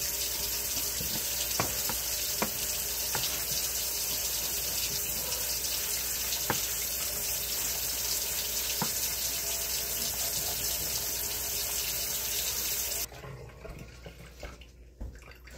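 Tap water runs steadily into a kitchen sink as a butcher block is washed with soap, a continuous loud gush with a few faint knocks, then cutting off near the end.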